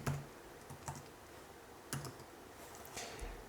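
Typing on a computer keyboard, a few sparse, soft keystrokes and clicks spaced out over a few seconds against a quiet room hiss.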